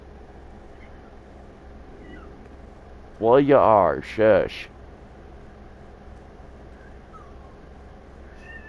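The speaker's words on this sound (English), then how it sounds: "don't mind my cat, he's just yappy today" A pet cat meows indoors, two or three loud, drawn-out cries bunched together midway through, while a person speaks briefly. A faint steady hum runs underneath.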